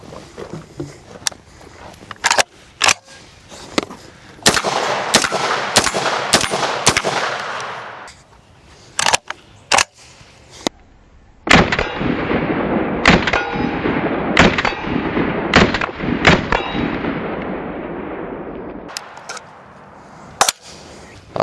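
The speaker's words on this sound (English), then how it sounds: "12 gauge AR style semi-automatic, and it's just the perfect gun to have, to play with." A 12-gauge AR-style semi-automatic shotgun fires loud, sharp blasts at a range, first in a rapid string of about a dozen shots, then a pause and a second long run with ringing echo between reports.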